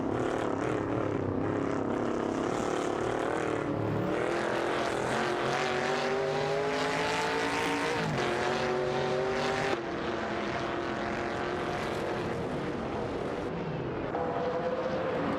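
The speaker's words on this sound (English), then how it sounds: "It's a showdown between a Dodge Charger and a Ford Torino 72." A Dodge Charger and a Ford Torino 72 race in a video game, their engines howling loudly and continuously, revs rising and falling through gear changes in a dense, layered roar of several cars at once.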